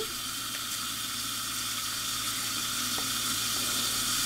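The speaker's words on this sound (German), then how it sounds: "während das Ganze hier brutzelt" Maultaschen frying in a pan, a steady, close sizzle that holds at an even level throughout, with a few faint clicks and no talking.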